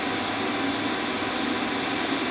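Gas flows through a regulator after the valve on an argon bottle is fully opened. It makes a steady, broadband hiss with a faint low rumble, constant and moderately quiet throughout, with no talking.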